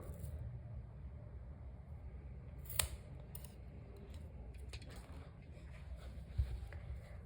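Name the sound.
scissors cutting crochet yarn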